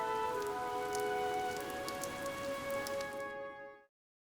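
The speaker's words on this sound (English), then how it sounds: "This rain threatens a coming storm." Steady rain pours in the Fire Emblem: Three Houses game, a soft even patter under a sustained musical tone that fades out at the end.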